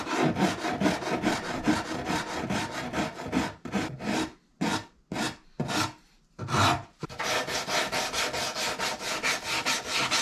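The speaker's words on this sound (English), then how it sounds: "get it in the vise and just get a carving file on it" A carving file rasps across the wooden body of a Stratocaster guitar held in a vise, in quick back-and-forth strokes, steady at first, then a few slower separated passes before the rapid filing resumes.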